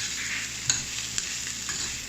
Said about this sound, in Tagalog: Sige, halo na maigi.